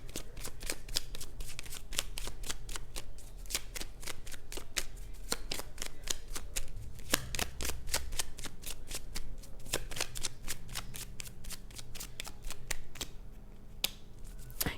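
Tarot cards being shuffled over and over, a dense run of crisp riffling flicks and soft slaps that continues steadily throughout, close and fairly quiet, with no voices.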